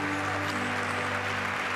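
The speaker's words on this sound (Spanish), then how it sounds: "El aplauso para Juan Carlos Calabró" Audience applause for Juan Carlos Calabró fills a television studio as a dense, steady wash of clapping, even and continuous, with a constant low hum underneath and no voices.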